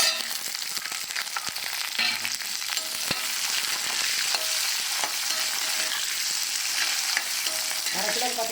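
Sliced onions sizzle in hot oil with dried red chillies for Pallipalayam chicken fry, a steady frying hiss broken by the scrape and clatter of stirring.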